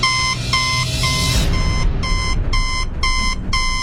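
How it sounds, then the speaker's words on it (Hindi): A fingerprint scanner machine sounds a loud electronic alarm: a rapid series of sharp, regular beeps repeating in quick bursts, close and insistent, with no talking. "उसके अंदर एक लाल बत्ती जल रही थी और वो जोर जोर से बीप कर रही थी।"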